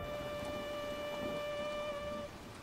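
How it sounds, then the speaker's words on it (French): Steady rain falls in the Resident Evil 0 video game, a soft even hiss under faint sustained musical tones, with no voices. "Mon Dieu, il pleut."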